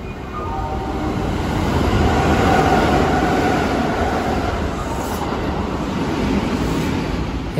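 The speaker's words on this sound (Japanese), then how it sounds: "このような形でね、次々とね、優等列車の方は通過していきます。" A Kintetsu express train passes through Kawachi-Eiwa station, a small two-platform stop, making a loud, sustained rushing roar with wheel rumble that holds steady for the whole passage, with no talk over it.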